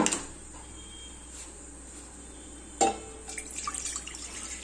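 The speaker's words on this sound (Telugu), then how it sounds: "వాటర్ పోసుకుందాం." Water is poured into a cooking pot on a stove for sweet corn fried rice, heard as faint splashing and trickling with a brief louder splash partway through, in a quiet kitchen.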